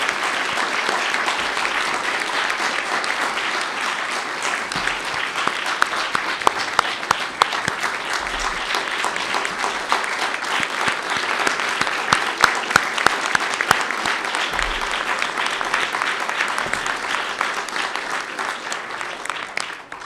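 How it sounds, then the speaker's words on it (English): Audience at the National Press Club applauds a speaker, a dense, sustained round of clapping lasting about twenty seconds with sharp individual claps standing out, heard alone without talk. "How about a round of applause for our speaker?"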